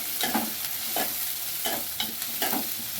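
Oil sizzling and crackling steadily as finely chopped onions fry for egg bhurji, with several soft scraping stirs at intervals, close and moderately loud.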